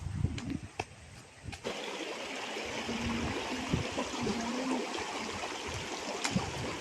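River water in Theni flowing down from the hills, a steady close rush and gurgle with a few knocks and splashes at the start.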